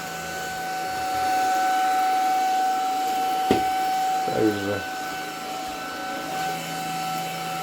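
A Buture VC90 cordless vacuum cleaner runs with a steady, even whine and hiss throughout, at moderate loudness, with a brief knock and a short scraping burst partway through. A single word is spoken near the start.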